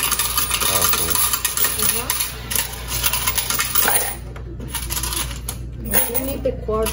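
Coins clatter and jingle out of a laundromat coin change machine into a metal tray, a bright metallic rattle that lasts for several seconds alongside background noise, with voices nearby.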